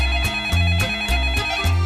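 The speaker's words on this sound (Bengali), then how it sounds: "এই সময় কে আবার ফোন করলো?" A phone ringtone plays loud and close, its electronic melody pulsing in a steady repeating pattern of short bursts, with no talking over it.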